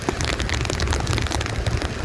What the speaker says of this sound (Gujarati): હવે વરસાદ થોડોક વીધો છે